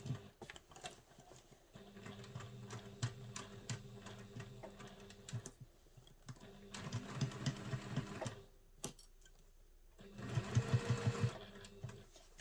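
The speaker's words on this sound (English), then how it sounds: "I've plopped it under my machine and we're now going to stitch just round the front." Domestic flatbed sewing machine stitching around the front of a fabric travel satchel, running in three bursts with brief pauses between, a fast close clatter of needle strokes, loudest in the final run.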